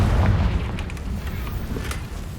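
A Confringo fire spell explodes in the Hogwarts Legacy video game, a deep, booming blast with rumbling low end that lingers across the moment at steady loudness with crackling fragments above.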